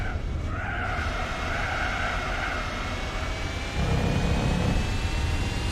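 A steady, droning stock car engine in Gran Turismo 4 roars continuously with a whiny, strained tone, shifting slightly in pitch partway through, with no voices.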